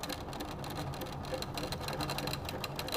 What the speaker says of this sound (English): I'm gonna sew on the line